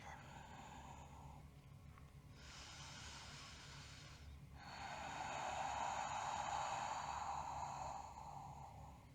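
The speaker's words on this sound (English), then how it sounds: "Let's hold and breathe." Slow breathing while holding a yoga pose: a soft breath in, then a longer, stronger airy exhale, heard faint and close against a quiet room hum.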